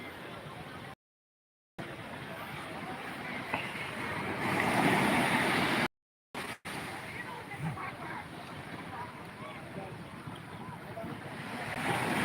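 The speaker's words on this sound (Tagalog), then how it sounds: "Laki ng alon, no?" Big ocean waves wash and roll against the shore at Barangay Calayo, heard as a steady surf roar mixed with wind buffeting the microphone. The sound swells in the middle and cuts out briefly twice.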